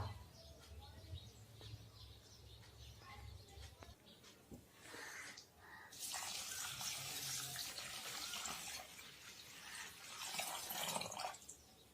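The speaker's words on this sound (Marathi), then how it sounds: "आता आपण हे स्वच्छ पाण्याने धुवून घेऊया।" Sago and barnyard millet washed in clean water in a bowl: soft sloshing and trickling, then louder pouring and splashing in bursts toward the end, quiet and close with no voices.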